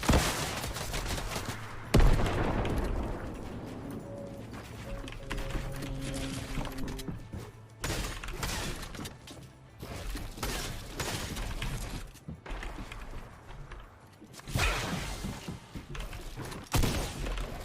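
Rapid gunfire from a P90 and a charged shotgun in Fortnite crackles through a busy firefight, with sharp repeated shots, clattering mechanical sounds and a few louder blasts spread across the clip.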